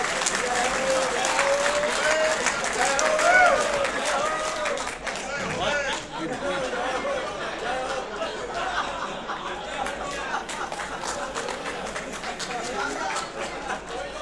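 An audience at a public event applauds MLA Pushyamitra Bhargava with a continuous round of clapping of moderate loudness, mixed with crowd chatter and voices throughout.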